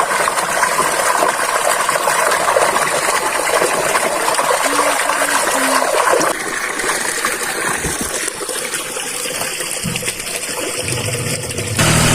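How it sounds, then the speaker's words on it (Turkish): Water rushes steadily from an opened valve at a mountain pasture, a loud, continuous hiss that changes character partway through, with a few clicks and knocks near the end. "Bakın böyle vanalar var. Suyu bırakıyorsunuz."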